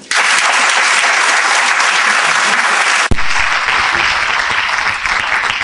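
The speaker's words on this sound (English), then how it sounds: "as you were clapping your hands" An audience at a Birmingham networking evening claps loudly and steadily in dense applause, holding at full strength with a brief break midway before continuing.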